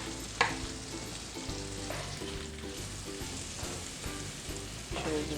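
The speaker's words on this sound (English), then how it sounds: "now it's time to add my eggplant" Mashed eggplant goes into a simmering sauce in a pan, bringing a steady soft sizzle with repeated scraping strokes of a spoon stirring at an even pace, close by.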